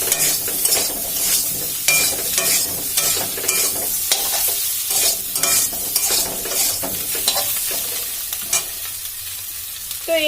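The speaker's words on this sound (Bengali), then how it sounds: "তো মশলাগুলো দিয়ে আরেকটু ভালো করে ভেজে নেব।" Spice masala fries in a pan with Kashmiri chili powder, a loud close sizzle broken by repeated rhythmic scraping strokes of a stirring spoon across the pan's surface, with no voices present.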